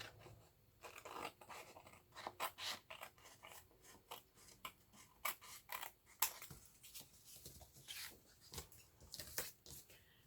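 Scissors snip through folded paper in a quiet, irregular series of crisp cuts and rustles, close and alone.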